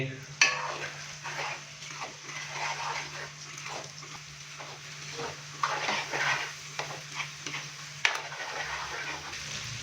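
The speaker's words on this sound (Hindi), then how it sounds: "अभी हम इसको भिंडी के अंदर अच्छी तरह से मिक्स कर देंगे।" Egg mixture is stirred into okra in a cooking pan, giving a soft, steady sizzle with faint scraping from the spoon and occasional light clinks, fairly quiet throughout.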